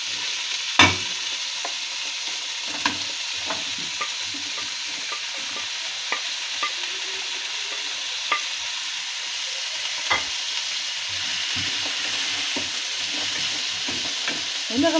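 Vegetables fry with onion in a pot for a red lentil soup, a steady close sizzle broken by sharp clicks and scrapes of a stirring utensil, no talking.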